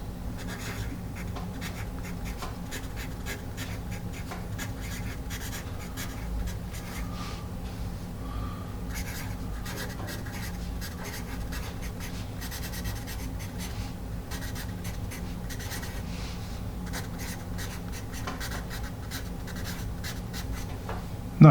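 A General's Supreme number 2 pencil scratching steadily across paper, a close, continuous dry rasp with small strokes and shifts in pressure running throughout, over a faint steady background hum.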